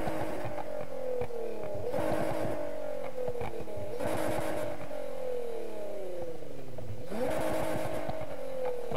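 A car's adjustable exhaust sound in the racing game Need for Speed Heat, with engine revs rising and falling in repeated cycles, each climbing to a loud peak and dropping back, steady and close.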